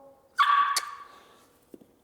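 A puppy gives one close, high-pitched yipping bark on command, which tails off into quiet with a faint soft sound afterward.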